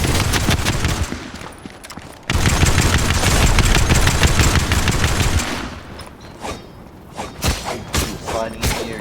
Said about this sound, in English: They were shooting.